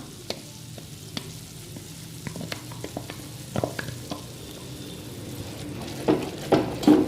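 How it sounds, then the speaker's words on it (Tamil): Ground masala paste frying with Kashmiri chili in a pan for paneer butter masala, a soft sizzle under scattered spoon scrapes and taps that get louder toward the end. "இப்போ நம்ம அரைச்சி வச்சுருக்கிற இந்த விழுதை நம்ம இதுக்குள்ளே சேர்த்துடலாம்."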